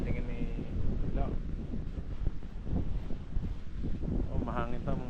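Wind buffets the microphone aboard a small boat at sea during a sea trial, a steady low rumble with gusting swells under nearby conversation.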